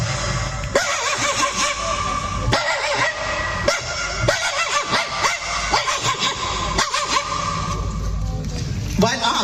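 A mimicry artist on stage imitates the small yipping cries of a puppy with his voice, short bursts rising loud over a hall sound system amid speech and crowd noise.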